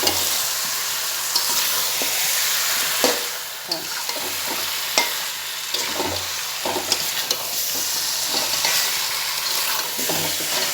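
Chicken curry being sautéed and stirred in a pan at home, with a steady sizzle and scraping spoon strokes repeating throughout, close and fairly loud, with no talking.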